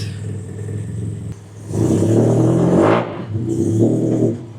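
A classic Fiat Abarth engine idles, then revs hard in two loud, close bursts, each rising and falling back to a rough idle.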